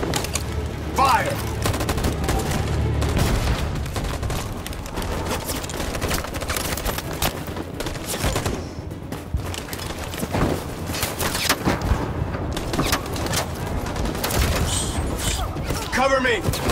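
Troops firing in the video game Detroit, dense rapid bursts of gunfire and fusillades rattling continuously with occasional heavier booms, loud and close, with characters shouting over the shooting.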